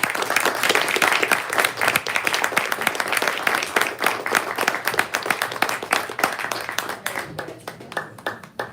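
An audience at a poetry evening claps for the poets, a full, lively round of many hands that thins and fades toward the end.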